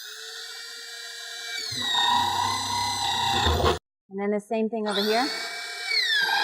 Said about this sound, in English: What we're going to do is we're going to drill a hole at the top and a hole at the bottom.